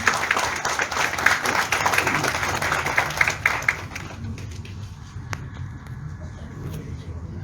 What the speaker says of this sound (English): Round of applause, everyone, please.